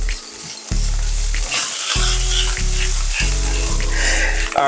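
Ground beef mixed with melted queso cheese sizzles and crackles in a pan, with repeated bursts of stirring and scraping over a continuous frying hiss.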